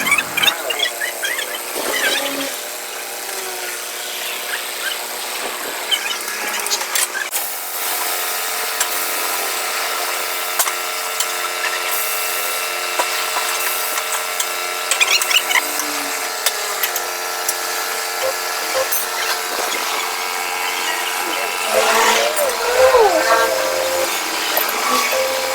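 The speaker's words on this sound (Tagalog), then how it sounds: "ginamitan ng impact drill" An impact drill works loose the wheel of a car during a tire change, a sustained whirring, squealing power-tool drone with rattling bursts close by, while people talk over it.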